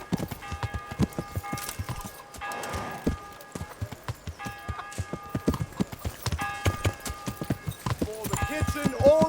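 Horse hooves clip-clop in steady rhythmic beats in the Kingdom Come Deliverance video game, continuing through the whole stretch alongside game music tones.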